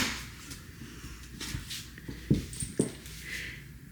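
A dog whimpers in two brief, close bursts after a big haircut, set against quiet indoor room tone with faint rustling and no talk.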